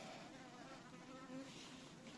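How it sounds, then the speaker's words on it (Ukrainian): Buzzing of a bee near blooming sunflowers around beehives, a steady faint drone that carries on through the whole moment with no voices. "Зараз тут нам бджолка заважає працювати."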